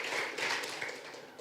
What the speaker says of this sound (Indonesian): Berikan sambutan bagi Sri ya